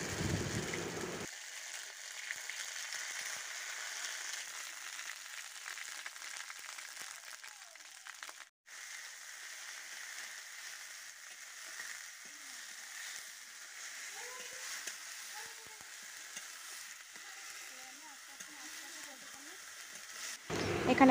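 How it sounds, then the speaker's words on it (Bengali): Ground kharkol leaf paste with black cumin fries in hot oil, giving a continuous soft sizzling hiss for about twenty seconds. Faint, low sounds come and go underneath. "বেটে রাখা ঘেটফুল পাতাটা এবার আমি তেলের উপরে দিয়ে দেব।"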